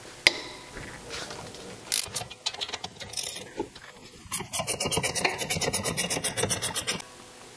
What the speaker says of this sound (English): next I can remove the two bolts that hold the brake caliper to the hub.